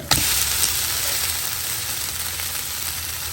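Batter sizzles on a hot pan after a brief clatter as it is flipped over, then a steady hissing fry carries on, close and fairly loud with no voices.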